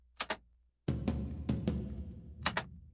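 Soloed recording of a tom drum in a mix before EQ, a few dull, boomy hits with lingering low ring, quiet and close, set between sharp stick clicks.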